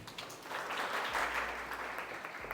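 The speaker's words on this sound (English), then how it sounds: "Please clap for Nidhi." A small audience at a library reading event claps for a speaker, the applause faint and distant, a soft patter of hands over room noise.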